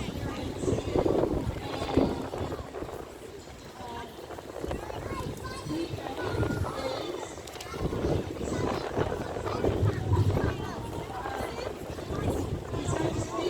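Gusty wind buffets the microphone outdoors at a Palestine protest in Auckland, a steady broadband rumble that swells and dips throughout, with a voice talking over it.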